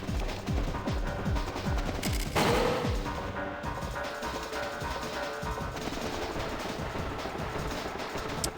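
Rapid machine gun fire plays continuously in the N64 game Winback, with dense bursts of gunshots. A louder shot lands in the middle of the sequence.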